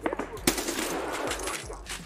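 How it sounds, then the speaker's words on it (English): Gunfire in the shooter Escape from Tarkov: a couple of sharp shots near the start, one loud close report at about half a second, then a dense rumbling spread of noise and echo. "Scav one shot me."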